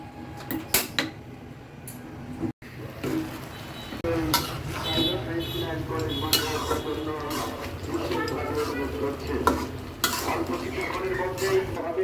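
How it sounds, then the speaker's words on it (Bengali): Vegetables seasoned with chili powder stirred in a cooking pot for a vegetarian mixed-vegetable dish, with recurring clinks and scrapes of a utensil against metal over a steady low simmer. "কিছু সময় একটু নাড়াচাড়া করে নিচ্ছি।"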